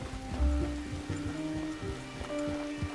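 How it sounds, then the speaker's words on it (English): Rain falling at night in Red Dead Redemption 2 near a bridge, a steady soft hiss of drops over a low background drone, under faint game music tones, with no talking. "'cause it's rainy"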